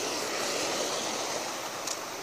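Water pours steadily from a dam into a river, a loud, continuous broadband rush with no pauses and no voices.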